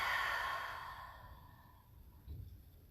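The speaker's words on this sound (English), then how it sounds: "stick out the tongue, breathe out the mouth that way" A single long, audible exhale through an open mouth with the tongue stuck out, strong at first and trailing off, followed by a soft breathy sound during a quiet yoga session.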